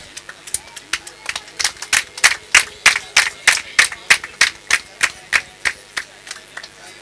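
At a wedding in Gisenyi, Rwanda, a crowd claps in a steady unison rhythm, about twenty crisp, evenly spaced beats that swell and then fade slightly, with faint voices underneath.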